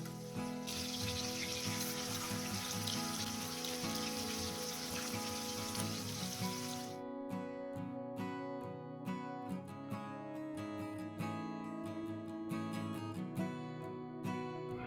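Rohu fish pieces hiss loudly as they drop into hot oil, the burst settling after a few seconds into a steady, crackling sizzle with small pops, and no talk.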